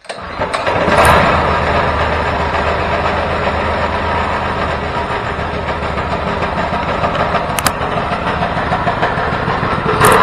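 A homebuilt 424cc inline twin engine made from two Predator 212 engines starts up and runs steadily with a loud, continuous close-up drone and a couple of brief sharp spikes.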